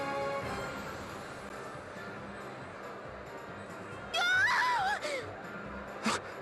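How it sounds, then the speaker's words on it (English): In the video game Bravely Second: End Layer, a short wavering scream rises from the city gates, sounding brief and moderately loud over a low ambient game backdrop. "Did you just hear a scream?"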